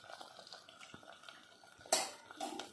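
Cooked boti, goat tripe, tipped into a pot of cooked gongura, with soft scraping and a sharp metallic clatter of a spoon against the pot near the end, then a quieter wet splat.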